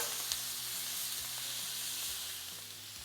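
Chicken wings sizzle on a Blackstone flat-top griddle in a steady, bright, close frying hiss that holds evenly throughout, with faint pops and no voices.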